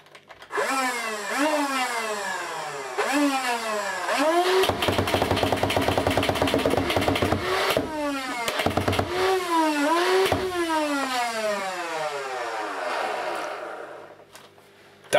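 A modified Nerf Rival Nemesis blaster fitted with a Blaster Parts Max motor fires in rapid bursts, its motor whining up and down with rhythmic clattering as balls are pushed through, loud and close with short pauses between volleys.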